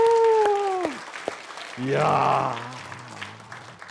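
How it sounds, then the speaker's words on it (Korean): Audience applause at a health seminar rises as a broad burst of clapping around the middle, following someone speaking briefly and overlapped by his voice and crowd murmur. "우리 박수."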